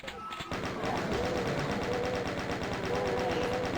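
Rapid automatic chaingun fire from the DOOM video game rattles on continuously over nearly four seconds, a steady dense stream of shots with game sounds layered beneath.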